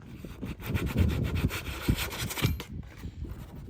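Burrs are sanded off a freshly cut hole in a plastic rain barrel, giving close, scratchy back-and-forth rubbing strokes in a quick, uneven rhythm with no voices.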